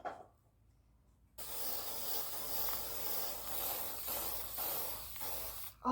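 Aerosol can of Varathane non-yellowing finish spraying onto a wooden kitchen counter, a steady soft hiss lasting several seconds after a quiet start, close by and without speech.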